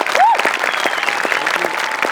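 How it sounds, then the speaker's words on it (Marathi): A studio audience at a Marathi comedy show breaks into dense, steady clapping, loud and close throughout, with a brief voice rising over it near the start. "एकदा जोरदार टाळ्या."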